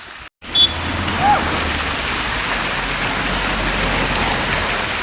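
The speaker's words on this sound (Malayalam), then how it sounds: "ചെറുതായിട്ട് മഴ പൊടിക്കുന്നുണ്ട്" A constant rushing wash of a small waterfall under light rain fills the clip, loud and close, with a brief voice early on.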